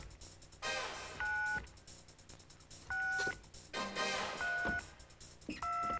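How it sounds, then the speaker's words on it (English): A telephone number dialed on a game-show set, a series of short electronic DTMF tone beeps in separate bursts, clear and close, with studio room noise between them. "Come on over and dial that number."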